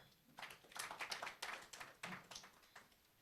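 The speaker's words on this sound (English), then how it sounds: "Another round of applause for our trainer." Audience members at a youth parliament session in Mbale give the trainer a round of applause, heard as faint, scattered bursts of hand claps from a small crowd at some distance.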